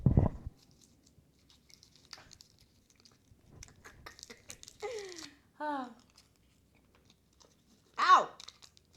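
Someone chews a Mamba candy close to the mic, with scattered soft crunches and wet mouth clicks between quiet stretches, and a few vocal squeals and sounds break in.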